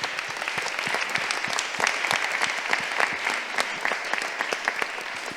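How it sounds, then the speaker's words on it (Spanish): Audience at a film event anniversary gathering breaks into applause, a dense, even patter of many hands clapping at moderate distance with little talk. "pido un aplauso más"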